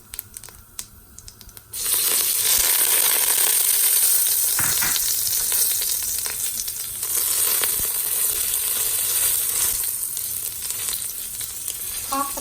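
Black peppercorns and curry leaves dropped into hot oil for a Punjabi besan curry, with a sudden loud crackling sizzle that jumps in after quiet and stays strong and steady, close to the pan.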